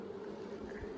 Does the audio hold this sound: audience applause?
no